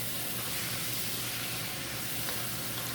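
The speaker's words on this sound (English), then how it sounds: "Just saute or braise it for until golden brown" Pork slices sautéing in a hot pan for Filipino bam-i, a steady, dense sizzle and crackle heard close but fairly soft, with no speech over it.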